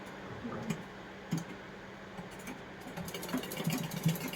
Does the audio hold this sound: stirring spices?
no